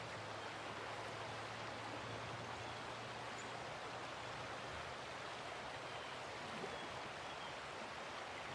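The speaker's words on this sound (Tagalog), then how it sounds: "Taas ng alon eh." Waves break and wash in a continuous broadband roar that fills the whole stretch, steady and fairly close, with a faint low hum running beneath for the first several seconds.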